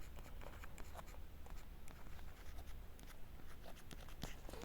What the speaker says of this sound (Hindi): यहाँ पर लिख देता हूँ